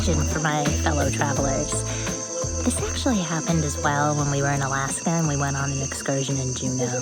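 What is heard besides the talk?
crickets chirping by a pier in the Amazon rainforest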